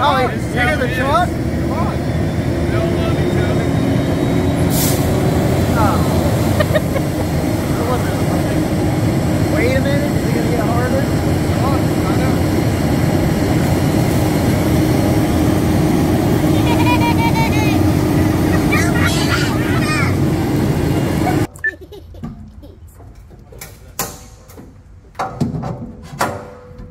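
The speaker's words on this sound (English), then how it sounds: "you hear the truck?" A heavy fire truck engine rumbles loudly and steadily nearby at a fire station, then cuts out abruptly, leaving quieter scattered sounds.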